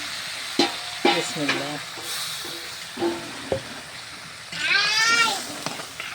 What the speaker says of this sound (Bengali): একটু ঝোল দিয়ে দিই